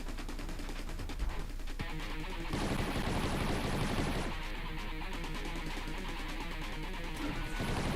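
Rapid machine-gun style fire from enemies targeting the player's ship in the Xbox One shooter Steredenn, with dense bursts of shots and crashing impacts running throughout at a loud, steady intensity, and no talk.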